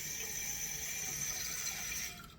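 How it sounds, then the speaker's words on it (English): A kitchen tap runs quietly to rinse food, a soft, even stream of water that cuts off just before the end. "I'm just going to put a little bit of water in this, rinse these off"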